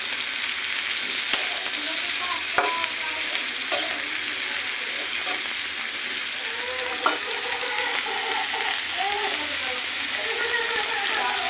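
Radish, dried chillies, ginger and garlic frying in hot oil for a Bengali vegetable dish, a steady close sizzle and crackle with occasional sharp taps of a utensil against the pan.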